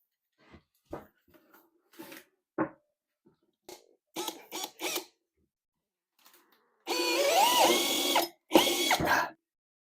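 A power tool drives a screw into a Sound Fastener, with scattered clicks and knocks followed by two bursts of whirring, straining motor noise as the screw fails to penetrate, close and loud.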